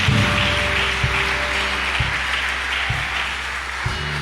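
Applause from a church congregation during a sermon, a steady broadband wash of hands sustained across the whole stretch with low hum and periodic thumps beneath, no talk over it.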